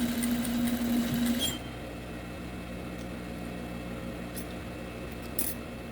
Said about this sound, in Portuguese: eu vou fazer uma costura de um pé de sapatilha